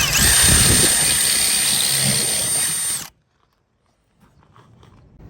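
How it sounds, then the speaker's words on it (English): A power drill with a pilot bit whines loudly and steadily as it bores through fiberglass on an RV for about three seconds, then stops abruptly, leaving near silence. "we're going to drill with a pilot bit"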